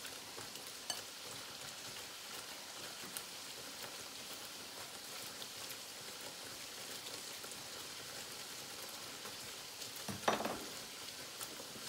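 Beef meatballs frying in a pan and being stirred over low heat, a steady soft sizzle and crackle running throughout with a brief louder scrape of stirring near the end.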